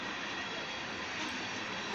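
A loaded ethanol freight train rolls past in a steady, broadband roar of wheels and cars, continuous and fairly close, with no talk over it.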